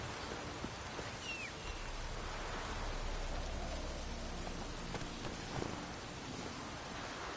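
Steady rain with a low rumble of thunder in The Witcher 3 on PlayStation 4, a continuous even hiss throughout with no talk.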